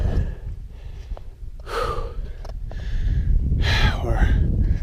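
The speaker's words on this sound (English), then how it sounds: "Breathing deep with busted ribs suck." A hiker with broken ribs breathes deeply on a hot desert trail in the Red Cliffs reserve, Utah, with two loud, strained gasping breaths over steady wind noise.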